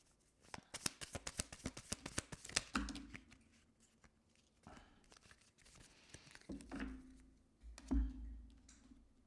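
Tarot cards are shuffled close by, a fast rippling riffle of crisp card flicks at the start followed by softer sliding and tapping as the deck is handled, quiet and with no speech.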